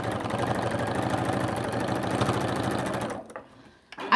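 A sewing machine runs steadily and loudly, top stitching a scrappy quilt-as-you-go zipper pouch. Its fast, even motor whir continues for about three seconds and then stops abruptly, leaving faint handling clicks.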